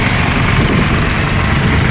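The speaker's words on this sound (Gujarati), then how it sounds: "આ જો હવે આ ટ્રેક્ટર પાણીમાં જાય છે જો આટલું આટલું ડૂબાય છે" A tractor engine idling and chugging as it drives into a waterlogged road, a loud, steady low rumble with constant vibration, close by and continuous without talk.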